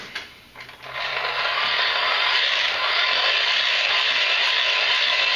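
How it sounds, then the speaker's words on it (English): A Ktor Pocket Socket 2 hand-cranked generator being turned, producing a continuous ratcheting, gear-driven whir that starts after a few faint clicks and holds steady for several seconds, close and alone. "hand crank generator here, and I'm gonna zoom up a little bit before I'm gonna start cranking"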